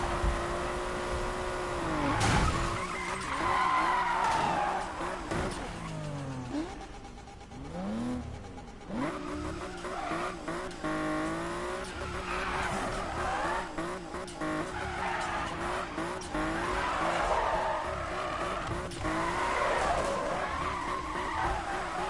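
Car tires squeal and skid through long drifts in the Need for Speed racing game, engine revving and whining under continuous loud screeching that rises and falls in repeated sweeps.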